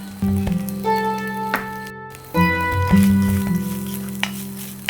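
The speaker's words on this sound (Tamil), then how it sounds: "1/4 மூடி தேங்காவை திருகி வச்சுருக்கேன், அதை நான் இப்போ சேர்த்துக்கிறேன்." Grated coconut roasts with spices in a pan for Chettinad chicken curry, a soft sizzle and scraping stirs beneath a steady tonal hum, with a brief gap midway.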